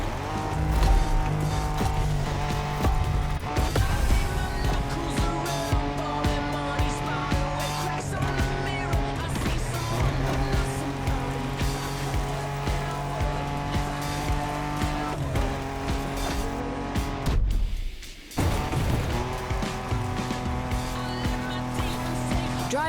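Off-road racing in The Crew Motorfest game: a loud, continuous engine roar with revving and tire skids, under steady music and game sound, briefly dropping out near the end.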